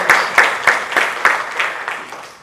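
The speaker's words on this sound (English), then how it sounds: "Can we get a round of applause for that?" Applause from a pageant audience comes in a run of evenly spaced, sharp clapping bursts that gradually weaken and fade toward the end, with no speech over them.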